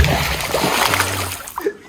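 Stones plunge and splash into water, a dense burst of splashing up close that tails off quickly, with a voice faintly beneath.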